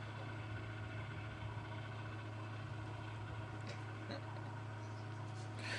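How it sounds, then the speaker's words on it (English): A water pump engine runs steadily in the distance on a safari drive, carried on a northerly wind as a constant low drone with faint outdoor background noise. "bringing us the sound of the engine, the pump, the water pump"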